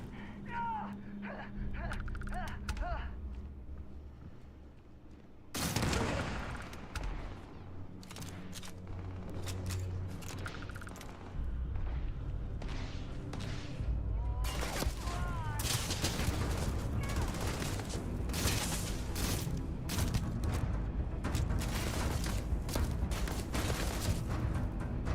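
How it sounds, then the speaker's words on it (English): Explosions and gunfire from a firefight in the video game Starfield, heavy sudden blasts followed by dense rapid shooting that grows louder toward the end, with a player talking over the action. "Let's just throw some grenades at him"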